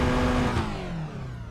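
A car engine revs, picked up through a headset microphone, a loud close tone that slowly falls in pitch and fades slightly over a second and a half.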